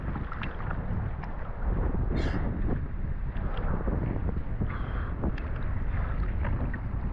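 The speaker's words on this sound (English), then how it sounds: "A forced stop because there was a ferry crossing." Open-water swim on Lake Windermere halted for a ferry crossing: steady wind buffeting and lapping water close by, with the ferry's low rumble and splashes continuing throughout, no talk.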